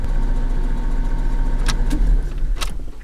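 A manual-transmission car runs steadily at low speed in a driveway, its engine humming continuously as it moves from first to second gear, with a couple of brief higher-pitched mechanical bursts partway through.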